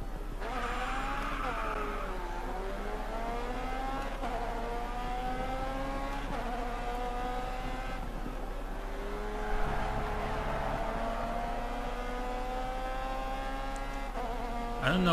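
A race car engine in the video game GRID Autosport drones continuously at high revs, pitch dipping and climbing with shifts and corners, steady and close with no speech.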